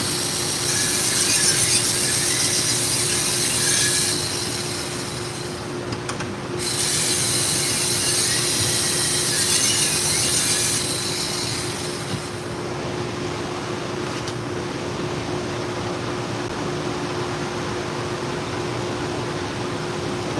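A knife is sharpened on a belt grinder, giving a steady hissing, rasping drone with a constant motor hum underneath; the grinding grows louder in two long passes, then settles to the motor running quieter.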